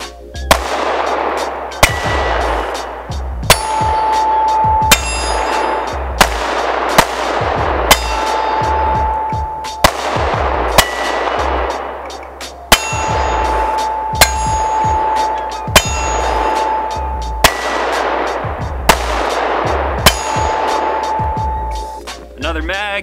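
Syndicate S2 compact pistol firing a 15-round magazine, a string of sharp loud shots spaced roughly a second or two apart, each with a ringing metallic tail, near and clear with no talking.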